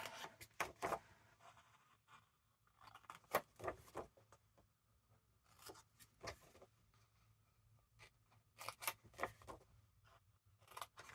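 Scissors cut envelope flaps out of vintage book paper in quick bursts of crisp snips and rustling paper, close and quiet, with short pauses between the runs of cuts.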